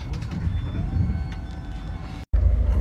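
A train rumbling steadily, heard from on board a double-deck regional train near Bochum, with a continuous low roar and faint high tones, briefly cutting out before resuming loud and close.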